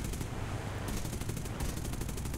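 Tank gunfire from a realistic battle in War Thunder over Malta, a steady run of rapid shots rattling low and loud for the full stretch, with no talk over it.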